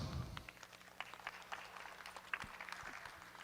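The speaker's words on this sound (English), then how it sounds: "If you could give these exhibitors a quick round of applause" Faint, brief round of applause from the crowd for exhibitors at the Open Red & White cow show at the Kentucky State Fair 2025, with a dense patter of clapping heard at a distance.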